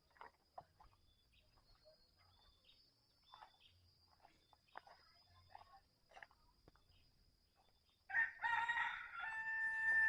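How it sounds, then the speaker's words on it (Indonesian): Village roosters crow in a quiet countryside setting, with faint scattered calls and insects for most of the stretch, then a loud, close crowing call bursting in for the last two seconds. "Pasti banyak suara ayam kampung berkokok ya."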